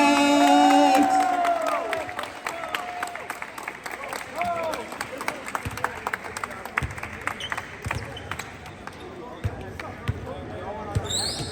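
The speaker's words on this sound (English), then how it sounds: "A round of applause to the captain," Applause and scattered cheering from a crowd honoring the captain of the 2024 champion team, Crescent Knights, at a league finals, starting with a voice, then sharp claps rippling through an echoing gym.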